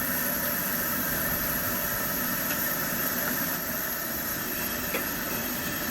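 A Coleman 426B three-burner camp stove roars steadily at full throttle, a loud, even hiss of rushing flame that holds without a break throughout.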